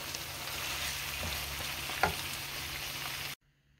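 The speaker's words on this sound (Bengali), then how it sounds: "গরুর মাংসটাকে আমি অনেকক্ষণ ভাজা ভাজা করেছি, মোটামুটি তেল উঠে এসেছে উপরে।" Beef bhuna fries in oil in a pan with a steady, dense sizzle, close and constant, with one faint stir-like clink partway through before the sound cuts off abruptly.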